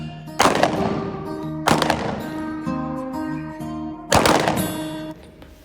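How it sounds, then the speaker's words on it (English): Rifle fire during CISF weapons training at a range: three loud, heavy shots with long ringing decay, plus a softer report between them, spaced a second or more apart. "We put our learnings into practice as bullets leave our barrels and hit the target."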